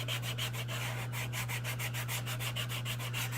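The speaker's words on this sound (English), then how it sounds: "I have a sanding stick." A sanding stick rubs back and forth over a ridge on a sculpted Alien costume shoulder piece in a steady, quick rhythm, close and clear, with a faint electrical hum underneath.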